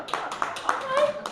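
A small comedy open mic audience gives a short round of scattered clapping, a few distinct claps near the mic, with voices talking over it.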